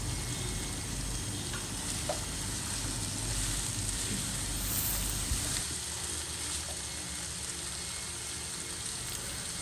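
Chicken sizzles and fries steadily in a hot pan as chopped onion and capsicum are stirred in, a continuous close hiss with soft scraping, without talk.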